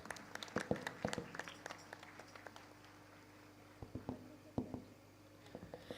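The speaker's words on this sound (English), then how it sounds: "Please welcome them with a big round of applause." At an AFS India regional meet, a small audience welcomes guests with scattered, faint claps, irregular and sparse, thinning out and then picking up again.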